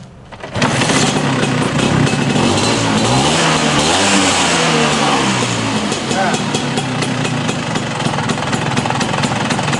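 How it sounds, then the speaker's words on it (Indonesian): A Vespa PX two-stroke scooter fitted with a racing exhaust starts and runs loud and close, its rattly, buzzing engine rising and falling through revs, with a brief word spoken at the start. "ini suara knalpot dari motor ini teman-teman."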